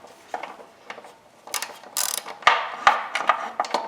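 A ratchet wrench loosens a bolt on a John Deere 14SB engine's carburetor, giving a series of close, uneven clicking bursts and short ratcheting runs with small metallic knocks between them and no talk.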